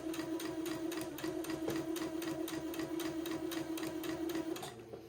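A sewing machine runs a 1/8 inch seam along a garment hem, close and steady, with a quick, even tapping rhythm of stitches over a constant motor hum that eases off right at the end.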